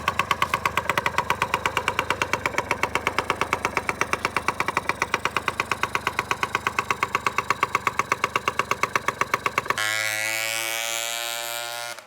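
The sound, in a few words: scooter engine idling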